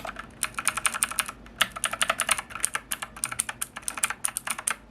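Rapid clattering keystrokes on a Rampage Ardor compact esports gaming keyboard, close and crisp, in dense bursts with a brief pause, no voices.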